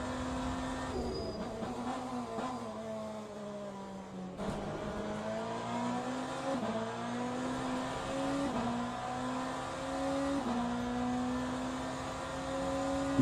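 A BMW race car engine in the Le Mans Ultimate racing sim revs loud and close, climbing through gears with repeated rising pitch sweeps and brief shift dips, sustained over the whole stretch.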